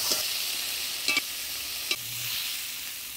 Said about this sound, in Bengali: চিংড়ি মাছটা ভাজি নিলাম, এবার তুলে নেব